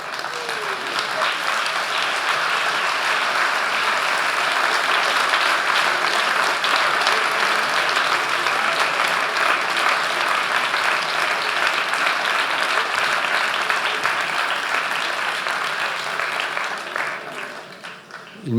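A lecture audience at a closing conference bursts into long, dense applause that stays full and even for about eighteen seconds and then tapers off at the end.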